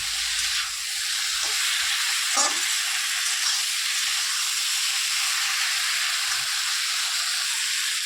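Potatoes and ridge gourd fry in a pan with a steady, loud hiss and sizzle that hardly changes, broken by a faint stir or clink now and then.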